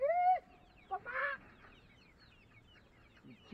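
Chickens in a backyard coop give a loud honking cluck at the start, then a few shorter squawks and clucks spaced apart over quiet background.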